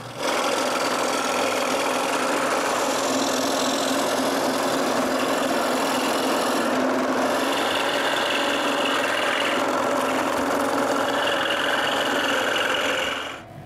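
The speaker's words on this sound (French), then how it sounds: "Puis avec la scie à chantourner, je coupe le gabarit." A scroll saw cuts a plywood jig with a fast, continuous buzzing chatter close to the microphone. The tone shifts slightly midway as the blade works through the wood.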